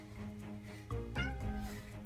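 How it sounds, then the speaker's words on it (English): A pet cat gives a short, soft meow close by in a quiet room. "There's my kitty."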